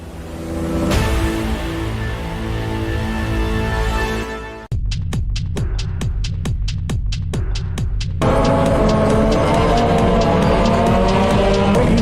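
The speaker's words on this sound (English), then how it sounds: "you might only see cars driving around a dirt track, making lots of noise" Race cars roar around the Bloem Oval dirt track in a loud, continuous engine din, with a run of sharp rhythmic pulses as cars sweep past close by, and no talking.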